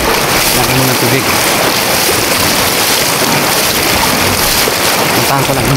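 Water rushes continuously in a stream, a loud, dense, unbroken wash that fills the scene with no clear breaks.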